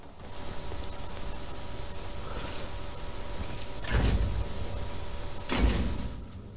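Doors opening in the Fortnite video game, with two distinct mechanical swooshes a little over a second apart over a quiet ambient background.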